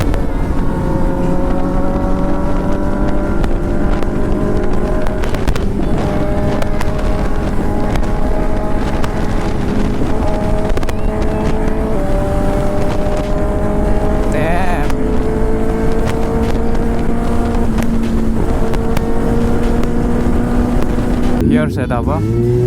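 A Kawasaki sport motorcycle fitted with an aftermarket full exhaust system rides on the highway, a loud, steady engine drone with rising and falling pitch and heavy wind noise throughout, other bikes close by.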